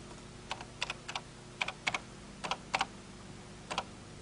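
Light, irregular clicks of typing on a 1983-era computer keyboard, close and fairly quiet, arriving in short bursts of keystrokes against a low background hum.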